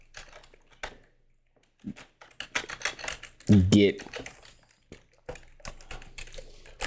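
Bursts of clicky computer keyboard typing come in uneven runs, close to the microphone, while someone talks over them during a live website-building stream.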